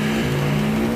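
A truck engine in the Intellivision game Truckin' drones loudly and steadily as a buzzy, unchanging electronic tone, with no talk.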